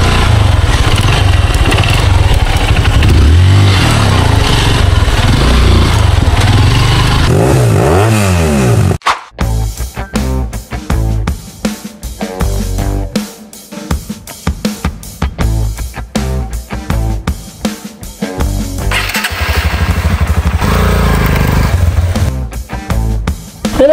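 A loud motorcycle engine roars continuously while riding along a river route in Batangas, Philippines, dropping into a choppier, rattling drone partway through as the bike moves along.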